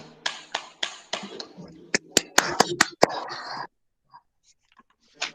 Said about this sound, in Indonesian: Silakan beri tepuk tangan untuk kelompok kita masing-masing